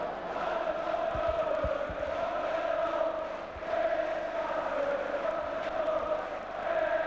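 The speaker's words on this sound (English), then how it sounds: "It really is quite a deafening noise here at Hillsborough, with the two sets of fans extremely vocal" Football crowd at Hillsborough during Sheffield Wednesday against Manchester United, with both sets of fans vocal: a steady, sustained roar of massed chanting and singing from the stands, continuous and distant-sounding, swelling slightly and dipping briefly midway.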